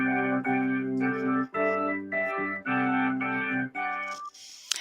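A sustained major seventh chord with an added clashing note, played as a series of held, rich chords with brief gaps between them, bright and moderately loud with no talking.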